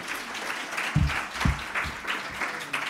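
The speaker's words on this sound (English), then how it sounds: "A very big applause, please, for our speaker." An audience claps for a speaker at an eTwinning workshop, a moderate, steady patter of hands with a few deeper thumps, heard from a short distance.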